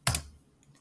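One sharp backspace keystroke on a computer keyboard, a close, crisp click followed by a faint tap as the key releases.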